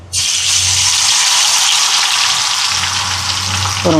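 Loud, continuous hissing sizzle of chicken 65 frying in hot oil, close and steady throughout, with no talking.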